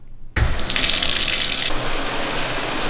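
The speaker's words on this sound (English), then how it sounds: "I'm gonna get in the shower." Water from a home shower starts suddenly and then runs in a loud, steady gushing rush with no voices, close and continuous to the end.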